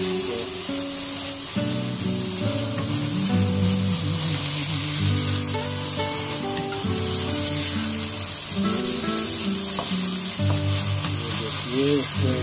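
Lemon garlic fish sizzling loudly in a pan, a constant dense crackle close up, with occasional stirring scrapes and a tonal hum underneath throughout.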